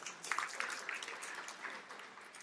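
A church audience gives a sermon a round of applause, a fairly faint, lively patter of clapping that peaks early and then thins out gradually.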